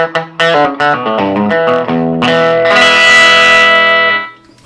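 A 1974 Gibson ES-335 semi-hollow electric guitar with a bright, effects-laden tone plays a quick run of picked notes, then a full chord rings out and fades. No voices.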